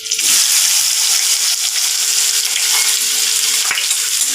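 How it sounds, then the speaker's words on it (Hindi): Onions hit hot oil with curry leaves in a pan for dry matki, giving a loud, steady close-up sizzle and crackle throughout, with a few brief clatters of stirring. "अब उसमें हम प्याज डालेंगे।"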